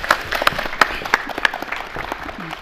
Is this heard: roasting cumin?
no